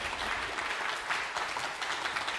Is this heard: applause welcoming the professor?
yes